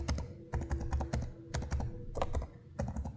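Bursts of typing on an HP Omen Transcend 14 laptop keyboard, short clusters of clicky, short-travel keystrokes with brief pauses between them, heard close and clean with no talking.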